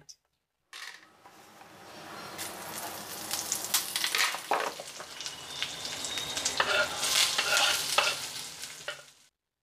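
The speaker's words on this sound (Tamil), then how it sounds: "வெங்காயம் கண்ணாடி பதத்துக்கு வதங்கிடுச்சு" Onions fry in an Indus Valley sandwich-bottom kadai over low flame, a continuous close sizzle with intermittent stirring scrapes and clinks that builds after a sudden start.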